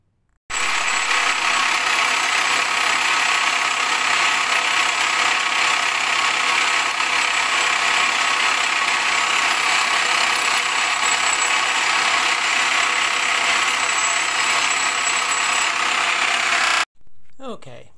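Spokes being drilled at an angle into a drum brake hub on a lathe or mill produce a loud, steady machining hiss and whir that runs unbroken for about sixteen seconds, then cuts off.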